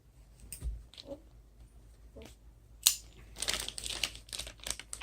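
Plastic mystery-bag packaging being sliced and torn open with a knife: sharp crinkling and crushing, a sudden crack near the middle, then a burst of rustling tearing noise toward the end, close and fairly loud.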